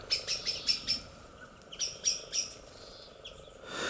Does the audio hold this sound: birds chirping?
yes